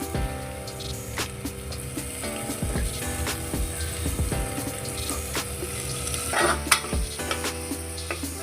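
Onions and tomatoes fry with spices for palak pulao, a busy sizzle mixed with frequent clattering stirs and scrapes of a spoon in the pan, close and continuous.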